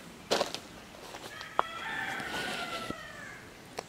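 A hen sounds off from inside an old smoker on a farm, giving a few sharp clucks followed by a drawn-out, crow-like call, close and fairly clear over quiet background.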